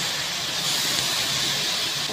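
Garlic sautéing in a pan, a steady broadband sizzle and hiss that stays even and fairly loud throughout, with no talk.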